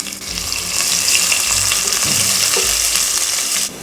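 Chopped onion fries loudly in hot oil with mustard seeds and cumin, a close, continuous hiss and crackle that stops abruptly at the end.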